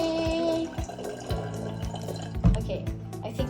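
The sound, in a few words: pouring water into a cup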